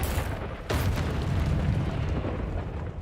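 A Confringo blasting spell goes off in the Hogwarts Legacy video game, a sharp crack followed by a sustained, loud rumbling boom that fills the whole moment with no speech over it.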